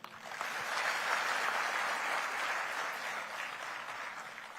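An audience at a government inauguration event, with the Chief Minister present, applauds in a steady, sustained wave of clapping that stays fairly even and fades only slightly toward the end.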